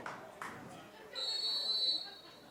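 A referee's whistle sounds one sustained, piercing blast at a high school boys lacrosse playoff semifinal, heard at a distance under crowd chatter and voices from the field.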